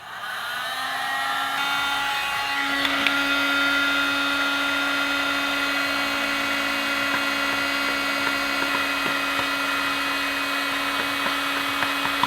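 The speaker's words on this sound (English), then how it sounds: "grab my heat gun and heat up this plastic a little bit and just bend them out" A heat gun blows with a steady, loud electric whine and airy rush close by while it warms plastic caps for bending, running continuously without pause.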